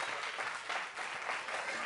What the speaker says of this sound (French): Formidable, on applaudit, lui,